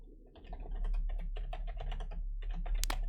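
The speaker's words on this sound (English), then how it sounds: "now let me type in here a comment, actually up here" A code comment typed on a computer keyboard: a steady run of close, clicky keystrokes over a low constant hum, ending with a couple of louder key presses.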